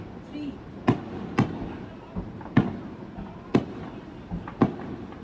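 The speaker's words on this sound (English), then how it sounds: "you can hear the explosions a little bit" Sharp explosions go off every second or so at a distance, each a brief thud over a low background murmur, with anti-aircraft fire.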